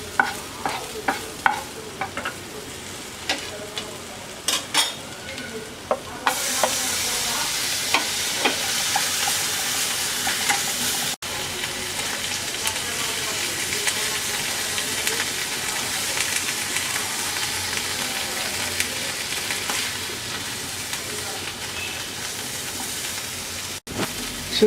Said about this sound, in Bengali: এবার আমরা এই পাশে শুটকিটা ভেজে নেব।